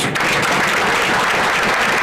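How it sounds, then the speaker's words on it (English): Applause from a crowd at a groundbreaking ceremony in Louisville, Kentucky: dense, steady clapping that stays loud and even throughout. "We should applaud louder for that"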